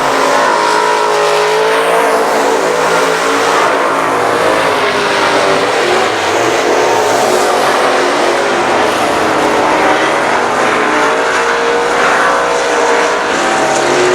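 Race cars screaming around I-37 Speedway in San Antonio on the final lap, a loud, sustained engine roar with revving rising and falling as the field passes close by, no talking.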